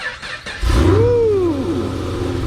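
A car that has just been jump-started cranks briefly with a few quick whirs, then fires and catches into a loud, rising rev that settles back into a steady idle close by.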